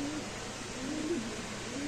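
A racing pigeon coos softly and steadily, a low murmuring call held close by over a constant faint background hiss, with no voices present.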